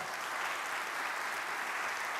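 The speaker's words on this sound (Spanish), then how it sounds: "Yo le aplaudiría a Él." A church congregation applauds during a sermon, with steady, dense clapping that holds at an even level throughout.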